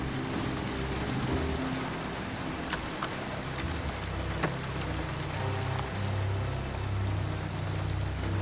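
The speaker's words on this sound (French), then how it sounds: "Il pleut des cordes." Dense, steady downpour of heavy rain hissing on surfaces in a film scene, with a few sharper drops or knocks standing out.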